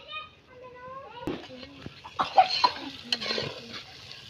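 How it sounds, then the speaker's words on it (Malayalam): Tomatoes are sautéed in a pan for kappa biryani, with a low sizzle and quick scraping stirs. A voice talks briefly at the start before the stirring takes over. "തക്കാളി നന്നായിട്ട് വഴറ്റിയെടുക്കട്ടെ"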